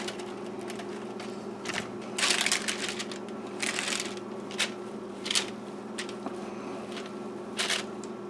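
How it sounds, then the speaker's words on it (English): Cooked quinoa is spread across a parchment-lined baking sheet, giving scattered crinkly paper rustles and soft scraping bursts, close and moderately loud, with no talking. "we're just going to spread this out on there as evenly as we can"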